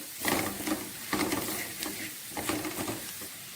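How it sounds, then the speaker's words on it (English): Spicy Indian-style chicken stir fry (peratal) being stirred in a pan, with a steady sizzle under several rhythmic scraping strokes of the spoon, close and fairly clear, with no talking. "And then just give this a stir."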